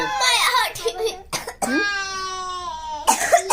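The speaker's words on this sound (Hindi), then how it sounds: "इसको खांसी हो रही।" A child coughs a few times, then lets out a long drawn-out vocal whine, with another voice talking briefly at the end.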